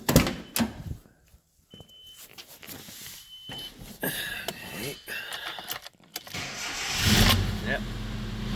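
A Nissan car with a newly replaced starter motor cranks and fires up, then runs with a steady engine rumble that grows louder toward the end. A door-like clunk is audible along the way.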